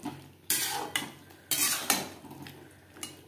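Boiled potato and kohlrabi turned in a pan over high-to-medium flame make a few scraping spoon strokes and soft sizzles, spaced about half a second apart, close and moderately loud.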